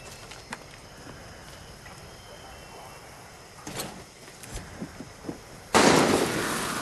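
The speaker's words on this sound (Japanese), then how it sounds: "銃声、誰だろう。" A few scattered sharp cracks of gunfire in Far Cry 6, distant and sporadic, followed by a louder burst of noisy sound toward the end.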